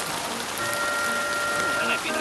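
Steady rain falling on a camping fishing trip at a Thai canal, a dense continuous patter on surfaces throughout, close and fairly loud, with faint voices underneath.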